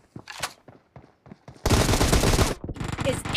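Gunfire in the mobile shooter BGMI during a team deathmatch, a few scattered single shots followed by a loud sustained automatic burst and another close volley at the end.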